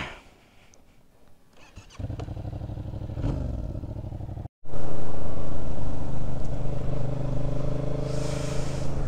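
A Yamaha MT-07 motorcycle with a wet clutch starts from near silence, then its engine hums and rises as it rides off. After a brief cut it drones loudly and steadily at speed, with heavy wind noise.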